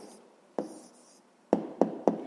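An answer to a fifth-grade arithmetic problem is written out by hand. One pen stroke is followed after a pause by three quick, close, scratchy strokes in a row, with no talking.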